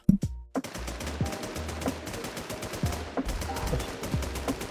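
Rapid machine-gun fire from the online zombie shooter Warz: bursts of sharp, close shots with short pauses between them, a steady crackling volley throughout.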